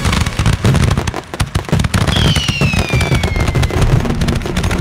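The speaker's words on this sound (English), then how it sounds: "the loudest, most sophisticated fireworks in the country" Loud fireworks at the Calgary Stampede centennial celebration, a dense continuous barrage of booms and crackling bursts with a whistling rocket rising partway through, heard outdoors without talk.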